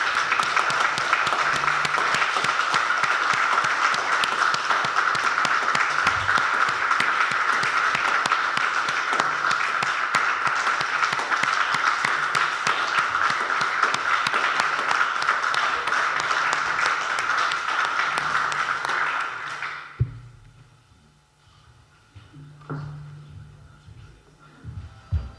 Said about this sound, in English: Can we give George another round of applause?